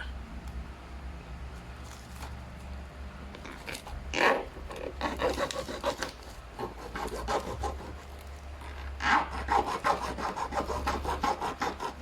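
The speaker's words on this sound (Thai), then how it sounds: "จะเอาเลื่อยตัดนะฮะ" A handsaw rasps back and forth through a plastic part of a Canon MP287 printer in uneven bursts of strokes, close by, over a low steady hum.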